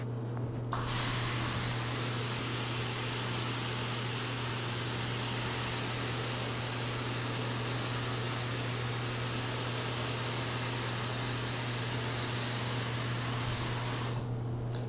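A hotel shower head sprays water steadily in a Luxor pyramid suite bathroom, a continuous bright hiss that starts abruptly, holds even and loud for about fourteen seconds, then cuts off.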